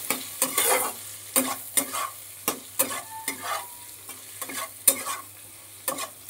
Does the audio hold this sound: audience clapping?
no